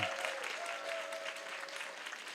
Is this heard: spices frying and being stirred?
no